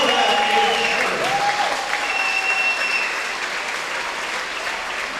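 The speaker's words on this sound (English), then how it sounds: "Big round of applause for Nodak Insurance." A crowd at an all-star basketball game gives steady, dense applause in a large gym, with whistles and whoops over it, and the clapping eases slightly toward the end.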